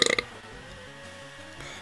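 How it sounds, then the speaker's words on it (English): A short, weak burp from a man who has been eating curry, a quick guttural croak at the start, then quiet background music. "Pathetic burp."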